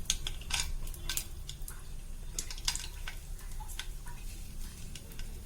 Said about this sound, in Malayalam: ഇനി അതിലേക്ക് നമുക്ക് കുറച്ച് കപ്പലണ്ടി ഇട്ട് കൊടുക്കാം.